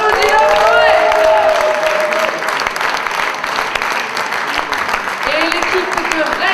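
A slam poetry crowd applauds and cheers a high-scoring poet, dense clapping with shouts mixed in, while a voice talks over the start and again near the end.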